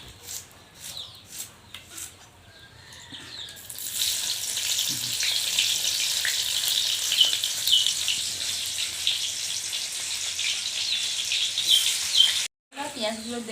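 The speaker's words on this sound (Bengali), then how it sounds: "এখন এই তেলে পেঁয়াজগুলো দিয়ে দেব।" Onions hit hot oil in a pan and sizzle steadily and loudly after a quieter start with some talking, the frying continuing close up for several seconds.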